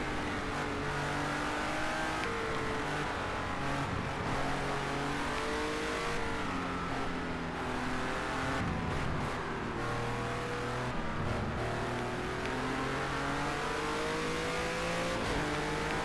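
A race car engine revs steadily in a racing video game, its pitch rising and falling through gear changes over a continuous loud drone with occasional tire squeal, no voices.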